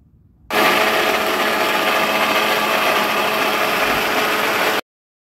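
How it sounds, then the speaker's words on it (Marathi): A kitchen mixer grinder whirs loudly for about four seconds, blending spinach, ginger, garlic and green chillies with a little water, starting and stopping abruptly with a steady high motor whine. "अगदी थोडेसे पाणी घालून मिक्सरला फिरवून घ्यायचं।"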